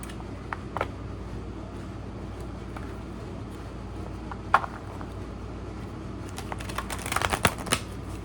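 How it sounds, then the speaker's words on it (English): Tarot cards are shuffled close by, soft scattered riffles and taps that build into a quick flurry of crisp clicks toward the end. "I'm just gonna shuffle for a while first."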